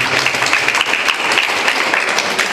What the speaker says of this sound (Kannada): ವಿದ್ಯಾರ್ಥಿಗಳು ಜೋರಾಗಿ ಚಪ್ಪಾಳೆ ನೀಡಬೇಕಾಗಿ ಕೇಳ್ಕೊಳ್ತಾರೆ.